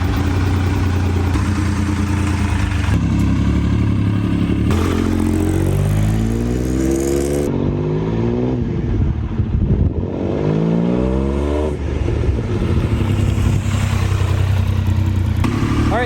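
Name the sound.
1999 Triumph Daytona motorcycle engine riding up driveway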